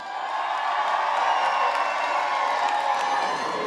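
An audience roars and cheers at the finale of a Miss Leie Ambassadrice beauty pageant, a loud, sustained wall of crowd noise with whoops that holds steady throughout.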